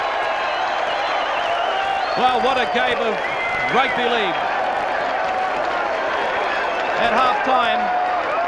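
A rugby league crowd in the Auckland v Australia match cheers and applauds at full time as fans storm the field, a steady dense roar under a commentator's continuous talk.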